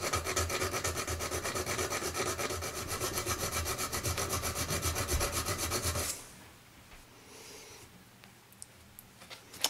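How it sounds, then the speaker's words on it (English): A small round hand file works an SKS rifle bolt with fast, rhythmic rasping strokes for about six seconds, then stops, leaving faint handling noises. "Come in here and grind this out by hand."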